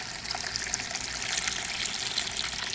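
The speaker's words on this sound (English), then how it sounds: "And you can see here how the water's flowing over the big round rock." Water from an aquaponics system runs steadily over a big round rock and other rocks set with a small diverter and a styrofoam section, a continuous close trickling and splashing with no voices.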